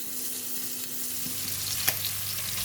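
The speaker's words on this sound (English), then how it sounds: "Next, I'm going to fry the pork meat." Pork meat frying in a pan for Chinese sausage fried rice, with a steady soft sizzle, a low hum running underneath and a brief sharp clink near the end.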